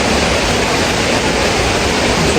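Hulugan Falls waterfall in Laguna, a loud, dense, unbroken roar of falling water heard close up with no other sounds.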